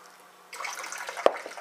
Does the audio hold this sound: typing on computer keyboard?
no